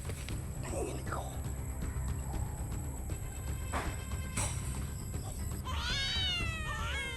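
A cat meows several times at night, with a clear rising-falling wavering cry near the end, under faint background noise and some murmured talk.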